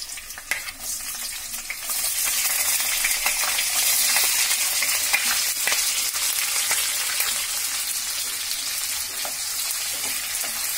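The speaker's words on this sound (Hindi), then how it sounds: "तेल गर्म हो चुकी है, अब इसमें हम प्याज को डालेंगे।" Sliced onions sizzle and crackle steadily in hot oil in a pan for a soya biryani, a loud continuous fry with occasional stirring clicks and no talking.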